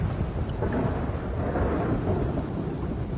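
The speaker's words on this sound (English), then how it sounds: "And there were lightnings and voices and thunders," Thunder rumbles through a storm, a dense, steady low roar with rain hiss filling the background for the whole stretch, fairly loud and with no voices.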